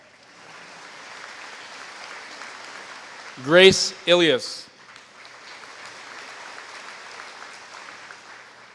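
Audience applause for honor marshals at a 2019 graduation ceremony, a steady moderate clapping bed that runs through the clip, briefly covered by a speaker announcing names over it.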